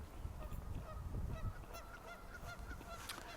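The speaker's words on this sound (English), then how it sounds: "one of the ducks in the lake here where I'm walking" Waterfowl on a lake call in a flurry of repeated honking cries at close range, overlapping one another against a steady outdoor background hiss, with no talking.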